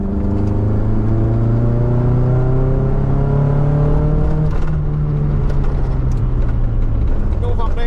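Vauxhall Nova engine running rough and refusing to settle at idle, a loud close droning hum whose pitch sags and wavers, with brief revving flickers toward the end; heard from inside the car.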